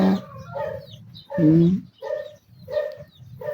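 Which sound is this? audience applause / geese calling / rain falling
geese calling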